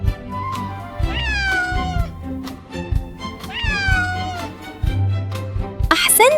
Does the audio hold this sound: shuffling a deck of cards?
no